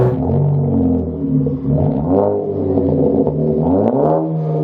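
A tuned Ford Focus RS MK3 with over 600 wheel horsepower accelerates hard, its engine note climbing through loud, rising sweeps with brief dips between gears, close and dominant with no voices.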